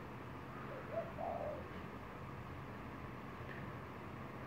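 A pigeon coos softly nearby, two brief low murmuring coos close together early on, faint over a steady outdoor background hum.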